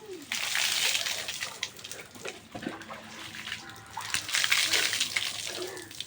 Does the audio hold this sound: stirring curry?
no